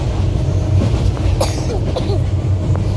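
Steady rumble and rattle from inside a moving passenger train in Bangladesh, with faint voices and a brief cough over the continuous carriage noise.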